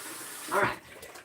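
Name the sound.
water tap sputtering from air in well water lines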